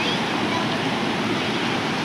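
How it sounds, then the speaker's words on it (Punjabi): Small mountain streams flow down a hillside in Chamba, Himachal Pradesh. The water makes a continuous, dense rushing hiss, fairly close and steady throughout with no distinct splashes. "ਆਹ ਦੇਖੋ ਛੋਟੇ ਛੋਟੇ ਦਰਿਆ ਬਣੇ ਦੇ ਆ"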